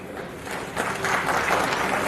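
Audience applause at a political speech, a broad wash of clapping that swells after a moment and holds steady, mid-distance and fairly loud.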